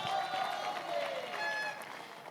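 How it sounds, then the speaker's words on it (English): An audience at South Africa's national lenacapavir rollout launch gives a round of applause, a sustained wash of clapping from a crowd. It is fairly loud and steady, with no clear voice over it. "A round of applause."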